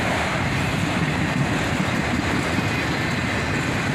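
Southbound freight train Q205, an autorack consist, rumbles by nearby in a continuous, even wash of rolling noise without pauses.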